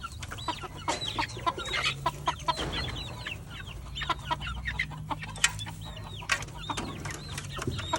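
Small flock of backyard free-range chickens in Saipan clucking continuously, with many overlapping close clucks and chirpy calls over a low outdoor background, no one talking.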